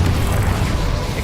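A spell explosion in the Hogwarts Legacy video game booms loud and dense, a sustained rumbling blast that fills the whole moment with little change in level.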